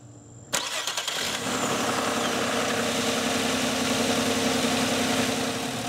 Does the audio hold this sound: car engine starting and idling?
yes